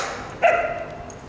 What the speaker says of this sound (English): 2 dogs.